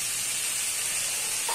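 Cauliflower pieces stir-fried in a pan for a winter vegetable bhaji with potato and tomato, giving a steady, fairly loud hiss and sizzle throughout with no pauses.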